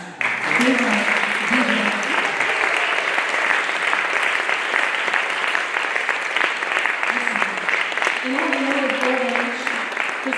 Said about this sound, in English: Can we just give a loving round of applause for Josh out there?